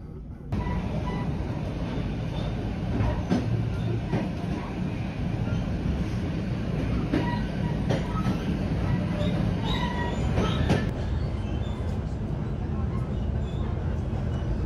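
Inside a CFM passenger train running from Chisinau in Moldova toward Iasi, a steady rolling rumble carries on with scattered rail clicks and rattles, close and continuous for the whole stretch.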